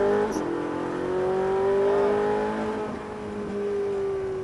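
A Ferrari 458 Italia's engine pulls hard out of a corner on the Alès race circuit, a loud, sustained, rising howl that climbs in pitch, dips briefly and then builds again.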